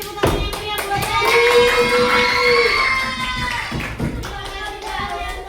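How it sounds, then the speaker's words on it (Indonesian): Children in an elementary school classroom applaud together, a dense run of clapping with excited young voices rising over it, loud and steady for several seconds before thinning out. "Oke, beri tepuk tangan yang meriah buat saya."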